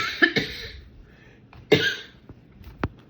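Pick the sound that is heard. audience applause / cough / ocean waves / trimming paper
cough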